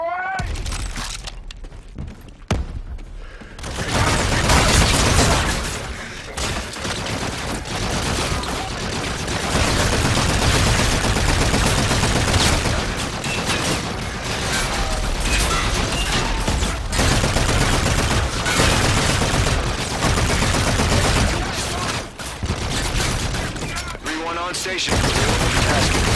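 Sustained gunfire and explosions in the shooter game Call of Duty: Infinite Warfare, dense bursts of shots rolling almost continuously with booming hits, while radio-style voices talk over the battle.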